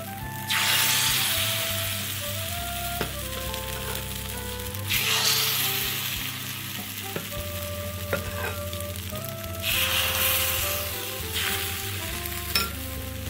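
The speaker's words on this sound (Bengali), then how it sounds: "এখন চিতই পিঠাটা ব্যাটারটা দিয়ে দিচ্ছি।" Chitoi pitha rice batter hits a heated clay mould in several bursts of loud, hissing sizzle that settle into a steadier fry, with a few clinks and no talking.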